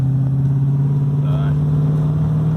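A Holden VB Commodore pulls away through the gears, its engine a steady, fairly loud low drone that holds an even pitch throughout, heard from inside the car with faint voices in the background.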